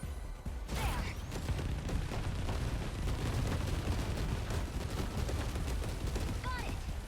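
A piercing multi-lock missile attack in 13 Sentinels: Aegis Rim unleashes a dense, loud barrage of rapid blasts and impacts that roars continuously for several seconds, with a brief whooshing launch near the start.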